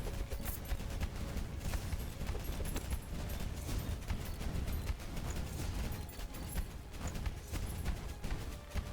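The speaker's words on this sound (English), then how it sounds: "Max Corpse Explosion." Corpse Explosion spell firing repeatedly in the video game Tower of Babel: Survivors of Chaos, a dense, continuous stream of sharp crackling bursts and pops over busy game noise for the whole stretch, with no voice.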